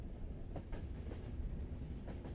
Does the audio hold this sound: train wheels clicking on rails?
yes